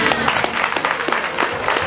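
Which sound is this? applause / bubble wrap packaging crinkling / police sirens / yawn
applause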